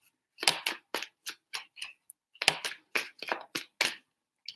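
Crisp bursts of tarot cards being shuffled and riffled close up, a quick run of short snaps repeating in uneven clusters, with no voices.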